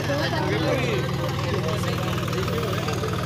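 A Deutz-Fahr 50 HP tractor engine idling close by with a steady, loud diesel chug and knock. Someone talks over it.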